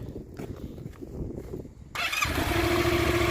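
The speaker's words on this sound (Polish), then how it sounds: "to musimy już motocykl odpalić" A motorcycle engine cranks and fires up during a riding licence exam, then keeps running with a loud, rough idle nearby.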